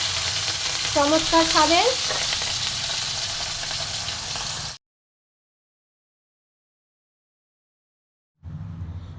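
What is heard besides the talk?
frying salted, turmeric-coated fish belly pieces in oil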